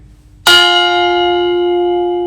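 An old buoy bell struck once by an external hammer gives a sharp metallic clang followed by a long, pure, slowly fading ring.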